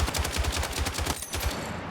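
Rapid bursts of weapon fire in Battlefield 6, a steady rhythm of close, punchy shots repeating throughout with a brief lull near the end.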